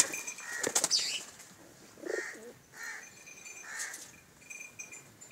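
Domestic pigeons kept in a loft of about thirty pairs flap their wings in a few short bursts, with soft coos and calls between, fairly close and fairly quiet.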